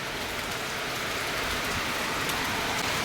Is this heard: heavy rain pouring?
yes